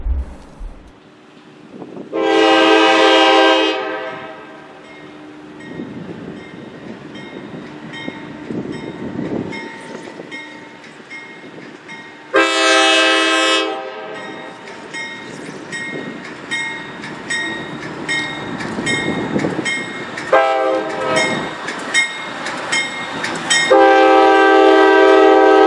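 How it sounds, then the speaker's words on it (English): A GE C44-9W diesel locomotive (Norfolk Southern, built 1997) rumbles past alone leaving a rail yard, with a steady engine drone, sounding several loud horn blasts as it goes by, the engine noise rising and falling. "a lone NSGE locomotive began to leave Watkins Yard"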